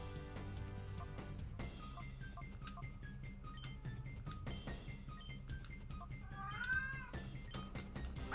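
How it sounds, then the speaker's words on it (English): A domestic cat meows a few times close by, rising wavering calls heard over a steady background of game music and clinking sound effects. "You're a good cat."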